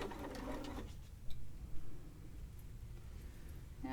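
Sewing machine chain piecing quilt fabric, a steady close mechanical whirr of stitching that runs briefly, then stops, leaving soft clicks and low room noise.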